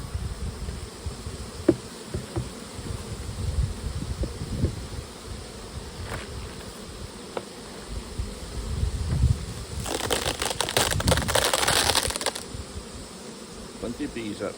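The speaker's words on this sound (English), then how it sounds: "Plenty of bees up here." Honeybees hum and buzz continuously around a hive topped with a new super, close and busy, with some rustling and handling noises, including a brief burst of clatter near the end.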